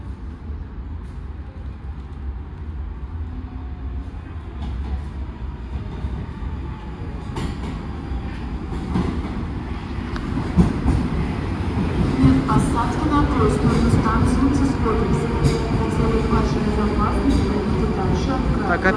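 Moscow metro train on the Butovskaya line, ridden in the last car: a steady low rumble and rattle of rolling wheels that swells as the train picks up speed, with light clatter and some faint talk nearby.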